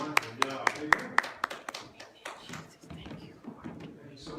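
A church congregation claps in a quick, even rhythm of sharp, distinct claps for a couple of seconds, then the clapping fades into scattered taps beneath people talking.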